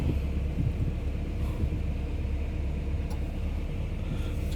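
A Komatsu heavy machine being driven gives off a steady low engine rumble that stays close and constant, with a faint clank now and then and no one talking.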